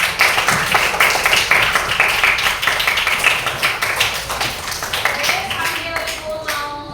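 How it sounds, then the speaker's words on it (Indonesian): Students in a classroom clap together, sharp and close, in a lively rapid patter that thins out toward the end as a voice begins speaking. "Kasih tepuk tangan lagi dong."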